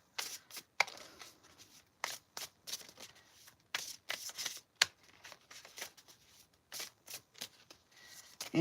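A deck of playing cards being shuffled in repeated quick riffles and snaps, sharp bursts separated by short pauses, close to the microphone with no talking.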